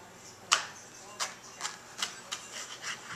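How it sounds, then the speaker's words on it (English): A knife slicing a jalapeno pepper lengthwise, with a sharp first cut followed by about six quieter, evenly spaced scraping strokes, close and faint, with no talking. "And I cut it down the middle."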